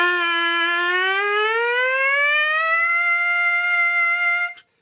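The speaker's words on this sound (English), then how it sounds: "I literally just do sirens on concert Fs. So I start with the middle F and I buzz up." A trumpet player buzzes a lip siren starting on concert middle F, one steady tone gliding smoothly upward and holding near the top before cutting off, close and loud with no talking.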